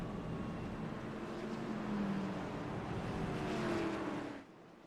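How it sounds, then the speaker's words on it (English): Pace car in an iRacing video game circling a simulated Nashville Fairgrounds Speedway oval, its engine a steady, continuous drone with slight pitch shifts, cutting off abruptly near the end. "Look at that new pace car out on the Speedway."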